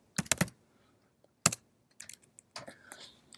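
Someone types a web address on a computer keyboard: quick, close clusters of crisp key clicks in short bursts with brief pauses between them. Nobody speaks.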